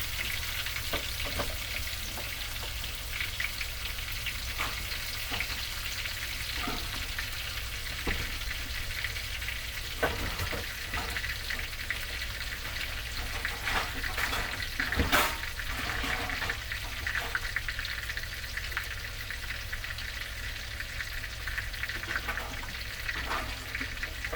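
Steady, continuous sizzling of cod fillets frying in a hot pan, with occasional louder pops and crackles, close and with no talking.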